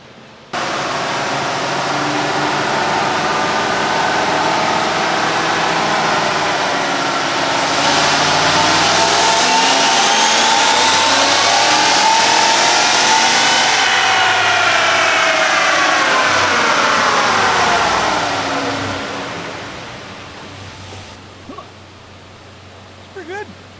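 A Chevrolet Silverado truck's engine runs hard on a chassis dyno. It holds a loud, steady drone, then its pitch sweeps up to a peak and falls back before easing off to a quieter idle near the end.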